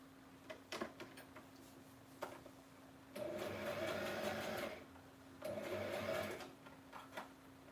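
A sewing machine stitches thread through cheesecloth in two sustained bursts of whirring, separated by quiet pauses with a few faint clicks, close and fairly soft.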